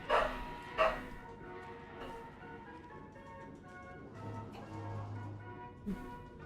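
Dogs barking in the Alan Wake 2 video game, two sharp barks early on and another near the end over a murky ambient game soundscape.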